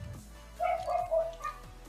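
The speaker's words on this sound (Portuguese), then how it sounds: "desculpa o latido dos cachorros" Dogs bark in a short burst of several yips and woofs, somewhat distant and moderately loud, over a low background hum.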